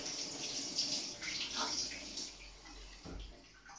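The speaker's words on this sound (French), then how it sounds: "je vais rincer les mains bien sûr." Hands rinsed under a running kitchen tap before searing scallops, a steady close stream of splashing water that fades slightly toward the end.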